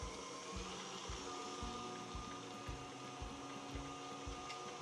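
A kitchen stand mixer runs at medium-high speed with a steady motor whine and a regular rhythmic thumping of the beater, fairly quiet and continuous, with no talking.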